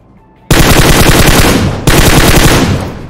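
Loud, dense gunfire from a sniper rifle in the PUBG Mobile battle royale game, two sustained bursts with a brief break between them, filling the whole clip with no voices.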